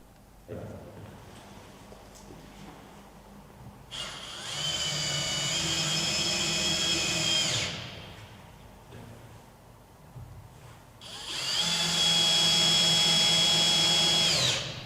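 A power drill driving screws into a door striking plate whirs in two sustained bursts of several seconds each, separated by a quieter pause, loud and close with a steady motor pitch.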